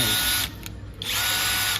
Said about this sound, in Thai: อย่างที่ผมบอกเนาะตัวเนี้ย สว่านไร้สายนะครับ